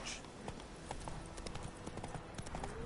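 Roach the horse trots in The Witcher 3 video game, with rapid, evenly rhythmic hoof clip-clops on the ground that run close and steady throughout.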